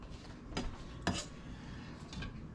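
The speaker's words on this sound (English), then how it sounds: "Just chopping up the eggs." A knife chops boiled eggs for potato salad in a home kitchen: a few sharp, separate taps and clinks against a plate or board, fairly close but soft, with quiet room noise between.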